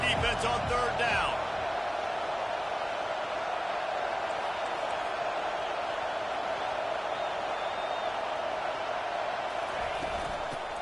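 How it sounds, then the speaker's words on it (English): A college football stadium crowd roars in a steady, loud wall of noise on a third-down defensive stand, with a brief burst of sharper sounds at the start. "Decibels rising as the crowd gets behind this defense on third down."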